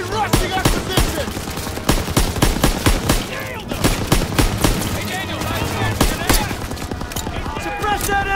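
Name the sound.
machine gun fire in the video game Call of Duty WWII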